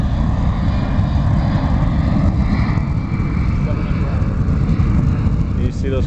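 A USAF C-17 transport flies low over a beach airshow, a loud, steady roar of jet engines filling the whole clip with a slight swell in the middle, while spectators talk nearby.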